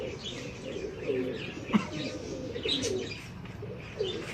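Pet pigeons coo in soft, repeated low phrases mixed with light chirps, close by and moderately quiet, with a faint background hum.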